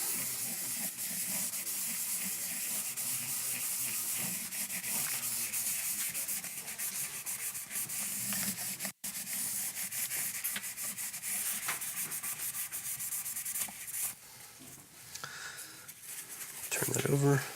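Cloth rubbed steadily over a guitar body during cleaning, giving a continuous close scratchy swish with brief dips and a louder burst near the end; speech appears alongside the rubbing.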